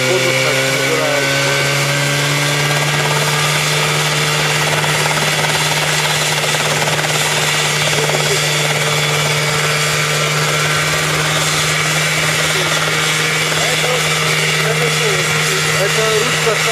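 A homemade helicopter flies with a loud, continuous engine drone and steady rotor hum, holding a constant pitch with a whining high tone throughout a long, sustained stretch.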